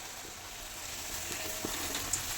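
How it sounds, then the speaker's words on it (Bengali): A luchi fries in a very hot kadai, producing a steady, close hiss of sizzling oil that runs unbroken through the clip with no talk. "এই লুচিটা আমি এখন দিয়ে দিচ্ছি কড়াইতে ফুলে যাবে এক্ষুনি কড়াই অনেক গরম হয়ে গেছে"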